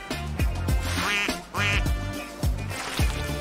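Cartoon ducks quack loudly and close in a quick series of nasal calls that overlap one another, with no other sounds between them.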